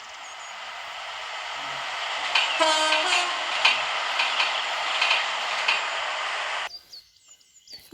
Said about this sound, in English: Now approaching us, we have another train that I forgot the name of. I think it's a 458.